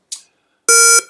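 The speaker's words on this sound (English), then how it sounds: "you see how it's beeping every 5 seconds after the workout starts" A pace clock gives a short electronic chirp followed by a loud, sustained tonal beep, close and clear with no talking.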